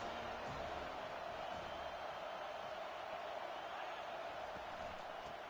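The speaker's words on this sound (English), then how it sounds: "This crowd trying to make life miserable for this offense." Steady stadium crowd roar from a Madden NFL football video game, a dense continuous wash of spectators at moderate level, with no cheers standing out and no one talking.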